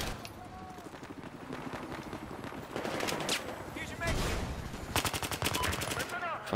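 Gunfire in Battlefield 4, bursts of rapid automatic shots mixed with single cracks, fairly close and layered over game noise, with a voice briefly talking.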